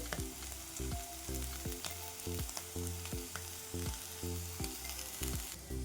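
Spiced potato bhaji (jeera aloo) sizzles and fries steadily in a pan, with rhythmic stirring scrapes repeating throughout as fresh coriander goes in; close and continuous, no voices.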